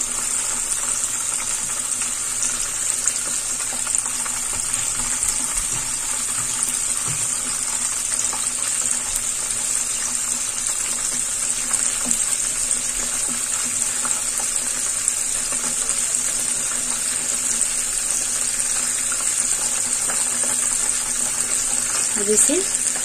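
Coated chicken pieces frying in a pan of hot oil, a steady close sizzle and crackle running continuously with occasional small bursts, no talk over it.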